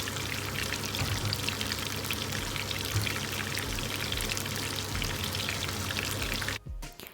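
Prawn fritters sizzle steadily in hot oil, a dense, even crackle and hiss running unbroken for most of the stretch before cutting out abruptly near the end.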